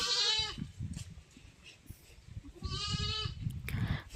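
A goat bleats twice, loud and close, with shaky wavering cries separated by rustling and scuffling.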